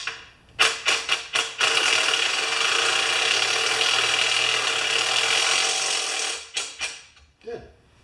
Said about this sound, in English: Half-inch wrench. I don't know if it's cross-threaded or not.